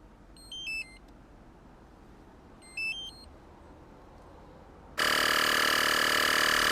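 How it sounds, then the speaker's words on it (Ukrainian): A battery-powered portable air compressor gives two short electronic beeps, then starts inflating a car tyre with a loud, steady mechanical drone that runs to the end. "воно зараз докачає і автоматично зупиниться"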